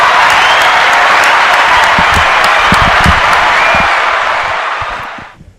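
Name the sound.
audience applause at Echo Lounge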